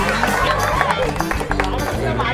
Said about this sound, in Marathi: टाळ्या झाल्या पाहिजे एकदा गायत्रीसाठी